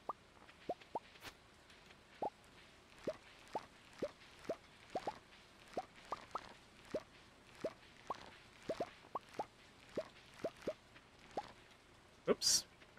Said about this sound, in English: It is, however, raining, which is the best thing.